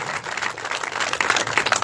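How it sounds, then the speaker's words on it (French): A crowd at a protest rally in Lyon applauds in a dense, continuous patter of clapping, fairly loud and without speech. "merci pour les applaudissements"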